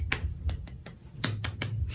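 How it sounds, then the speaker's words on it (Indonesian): A classroom gives a short burst of applause, a handful of sharp, separate claps spaced unevenly over about two seconds, fairly close and moderately loud, with no talking. "Oke, baik, tepuk tangan."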